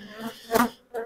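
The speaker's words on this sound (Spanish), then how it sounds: "Abeja joven, que es lo que queremos." Honeybees buzz around an opened hive as a brood frame is inspected, a close, brief humming swarm that swells sharply in the middle and returns in a shorter burst at the end.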